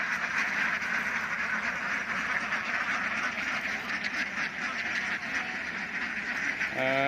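Many free-range egg-laying ducks quack together in a field in a continuous, busy chorus close by, steady throughout with no pauses.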